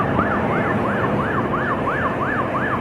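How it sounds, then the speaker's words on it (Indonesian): An emergency vehicle siren wailing through heavy traffic in Malaysia, a loud, close, rapid up-and-down yelp repeating about three times per second over the rumble of road noise, with no talk. "rela pun ke tepi cuy ya kalau udah mendengar sirine ini"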